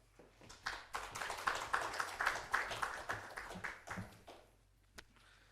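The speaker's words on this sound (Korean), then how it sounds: "목사님 나오실 때 박수로 환영하겠습니다" A congregation at a Korean Christian TV staff morning worship service claps to welcome the pastor. The applause is moderate and steady with distinct individual claps, then tapers, and one sharp clap lands near the end.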